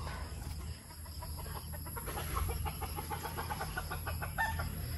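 Farm chickens and a rooster clucking steadily at close range, with repeated short calls over a constant outdoor hum and no talk.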